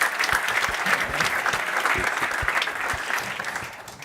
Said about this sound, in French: vous pouvez applaudir, si vous voulez applaudir, allez-y